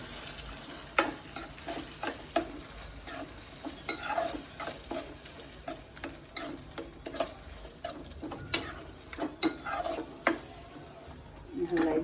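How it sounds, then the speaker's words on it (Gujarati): Ingredients for Gujarati olo are stirred in a pan: a spoon scrapes and knocks repeatedly in an irregular rhythm, close up, over a soft sizzle. "અંદર નાખીને હલાવી દેવાનું પહેલાં એકવાર"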